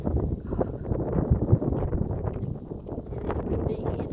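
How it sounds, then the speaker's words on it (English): Low, steady wind rumble buffets the microphone throughout, a dense roar filling the low end with faint rustling over it. "you're going to hear the wind in the background."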